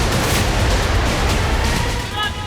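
Artillery and rocket launcher fire in combat between Thailand and Cambodia, a dense, sustained roar of heavy booming blasts that eases slightly near the end.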